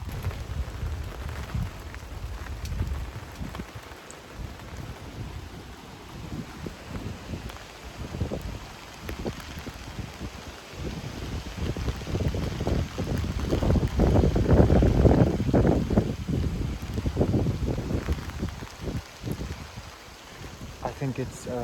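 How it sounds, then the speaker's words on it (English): Rain falling in strong wind, a dense patter of drops on a coat mixed with gusty wind rumble on the microphone, swelling louder toward the middle before easing slightly. "I think it's either pouring or moderately raining"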